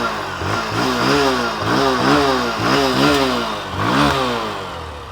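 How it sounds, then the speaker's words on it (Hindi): A 100cc motorcycle engine ticks over at idle, a steady close throb with a regular low pulsing beat and slight rises in level, no voices over it. "अब आइडियल कंडीशन पर इंजन साउंड सुनो।"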